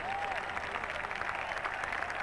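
Steady crowd applause ripples around a golf course at the 1987 Ryder Cup after a remarkable shot, continuous clapping from a large gallery heard from a distance without pause.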